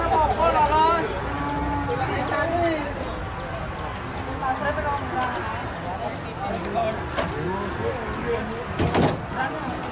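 Cattle lowing at the gate of the Jatirogo cattle market, a few moos rising over a constant busy din of crowd murmur and voices, with vehicle and door noises mixed in.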